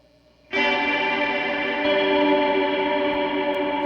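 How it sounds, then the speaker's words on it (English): Electric guitar through a Meris Mercury X pedal with modulated delay, one strummed chord ringing out into a long, shimmering, wavering tail, steady and close with no voices. "It's great sounding delay"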